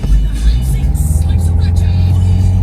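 A car engine revs as the car pulls away, a close, loud, low rumbling drone with pulsing throttle surges lasting a few seconds.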